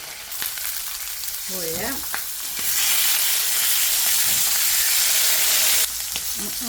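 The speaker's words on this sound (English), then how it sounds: "Get a nice sear on each side, and then we'll turn it down and let it cook through." Meat sears in a hot frying pan, a steady loud sizzle that swells and holds, with brief stirring clatter and someone speaking briefly near the start.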